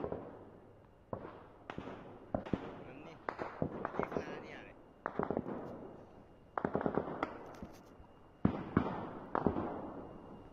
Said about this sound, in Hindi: ये जो आप आवाज सुन रहे हैं, ये गोलियों की